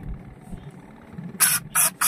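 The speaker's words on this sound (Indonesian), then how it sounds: "Kita semprot dulu." Pressurized water spray blasting out trapped seawater from the drain holes of a Yamaha 15 hp outboard motor, in three loud hissing bursts after a quiet stretch of low background noise.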